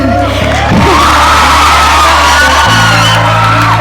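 An audience cheers and whoops loudly for a speaker, a dense, continuous crowd roar with yells rising above it, steady throughout.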